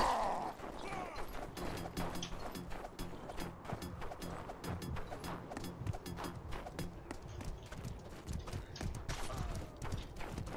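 Horses gallop in the medieval combat game Mordhau on a winter frontline battle map, a dense, steady stream of hoofbeats running throughout amid clashing battle noise.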